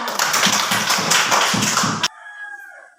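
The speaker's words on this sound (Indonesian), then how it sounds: "Tepuk tangan untuk Fiona." A classroom of pupils claps for a student in a steady, rhythmic burst of loud, close claps that halts suddenly, leaving a faint tone behind.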